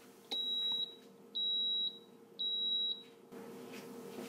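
A waffle maker sounds three long, high electronic beeps, evenly spaced and clear, each lasting about half a second, then the room falls into a soft background hum.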